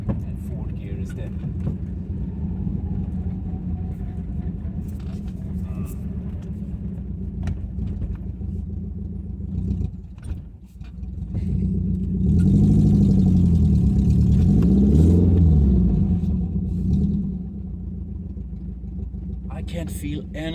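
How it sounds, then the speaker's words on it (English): An old barn-find car's engine runs steadily as the driver shifts into third, then downshifts and moves to fourth, with a louder revving swell midway and the engine settling back afterward. "We can get a third gear like this, and then down changing, and fourth gear instead."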